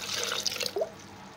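Water is added to protein shake ingredients with a short, close splash and a few drips, lasting just over a second.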